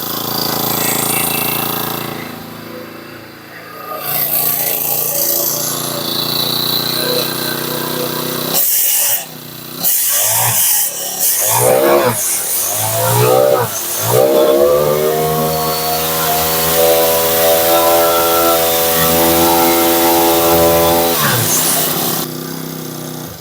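A two-stroke strimmer engine runs loud and buzzy for most of the span, sputters through a brief irregular patch, then climbs back to a steady high whine before cutting off near the end.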